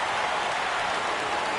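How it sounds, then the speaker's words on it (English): Steady broad roar of a baseball stadium crowd in a PS4 baseball video game, the fans rising and cheering at a full count, sustained and even throughout with no speech. "Crowd gets up for the 3-2."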